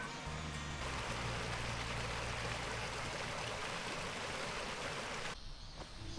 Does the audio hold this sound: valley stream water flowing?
yes